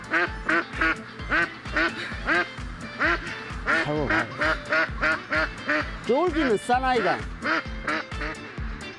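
Mallard ducks quack loudly and rapidly in a dense, overlapping chorus as they are chased on a farm, with people shouting and talking over them.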